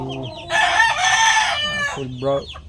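A Sweater gamefowl rooster lets out a loud, close crow lasting over a second, with brief clucking sounds just before and after it.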